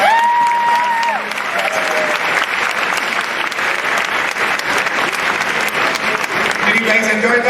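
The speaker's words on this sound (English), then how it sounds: "let's give a big round of applause to the incomings" Loud, sustained applause from a large audience welcoming incoming graduate students at an orientation, dense clapping with some cheering throughout, and a voice speaking briefly over it at the start and end.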